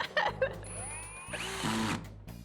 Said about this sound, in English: The good thing about the reverse button on a drill, you have a 50-50 chance of getting it right